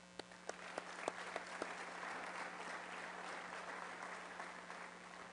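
Audience applause welcoming new Rotary Club of Denver board members at a club meeting, steady sustained clapping from a room full of people with a few sharp louder claps near the start.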